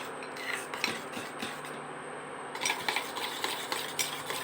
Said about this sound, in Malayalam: എല്ലാ കട്ടകളും നന്നായിട്ടൊന്ന് അതിൽ അലിഞ്ഞ് ചേരുന്ന രീതിയിൽ മിക്സ് ചെയ്ത് കൊടുക്കാം.